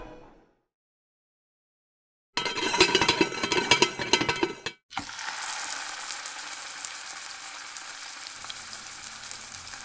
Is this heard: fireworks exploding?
no